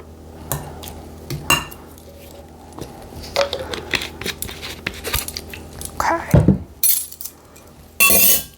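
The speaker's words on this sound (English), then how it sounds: "And now we're going to go ahead and stir." Apple cake batter with vanilla extract being stirred by hand in a bowl, with irregular clinks and scrapes of a utensil against the dish, punctuated by a few sharper knocks and clatters toward the end.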